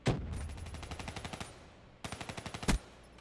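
Automatic gunfire in Black Ops 3, two separate bursts of fast evenly spaced shots each ending in a heavier blast, with a clean pause between them.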